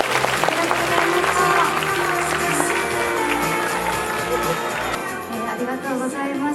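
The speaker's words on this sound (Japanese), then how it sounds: "皆さん拍手でお願いください。" Loud, sustained applause from a large audience at a film premiere stage greeting, with cheering voices, thinning out toward the end.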